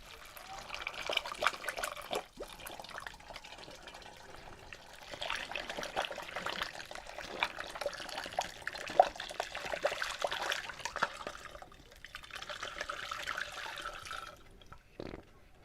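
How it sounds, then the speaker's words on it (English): Water poured from a kettle through a funnel into a bottle holding a pound of ginger for home-made ginger beer, a steady close trickling and splashing that runs for most of the stretch with brief pauses. "We're going to take our water from our kettle and help it into the bottle."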